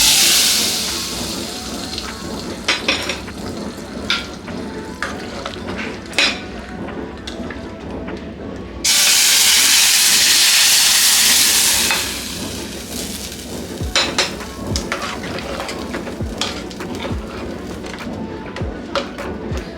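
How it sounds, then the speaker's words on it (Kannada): Hot tempering poured into a pot of sweet pumpkin sambar, a loud burst of sizzling and hissing lasting a few seconds, set between quieter stirring, clinks and kitchen clatter. "ಈಗ ಈ ಒಗ್ಗರಣೆನ ಸಾಂಬಾರ್ಗೆ ಹಾಕ್ಬಿಡೋಣ."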